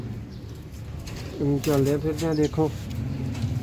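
Pigeons from a high-quality flock for sale coo softly in a short burst, close by, as someone talks over them.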